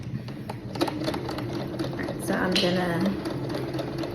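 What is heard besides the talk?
Singer Quantum sewing machine stitching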